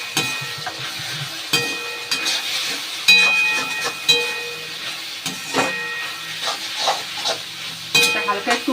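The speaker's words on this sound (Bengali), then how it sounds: "এটা হালকা একটু ভাজা ভাজা করে নিই" Chili chicken fries in a pan with Kashmiri chili powder and a little sugar, a low sizzle running under repeated sharp clinks and scrapes of a utensil stirring against the metal.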